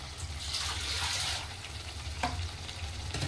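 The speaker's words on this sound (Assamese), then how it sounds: "আৰু ইয়াতে অলপ পানী দিব লাগিব।" Water is poured into a pot of sour fish curry cooking over heat, giving a steady soft rush and hiss with a faint sizzle, close and quiet.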